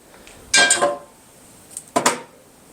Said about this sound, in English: I'm also going to be using a cast iron pan